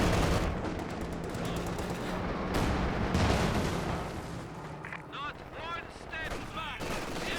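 Heavy mortar shells firing and impacting in Company of Heroes 2 during a 2v2 battle, a dense continuous barrage of booms and gunfire with distant thuds, while a commentator talks over the din.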